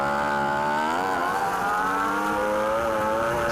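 BMW superbike racing at Oulton Park, heard onboard: a loud, steady engine howl close up, its pitch dropping and then climbing again as the bike accelerates through a corner.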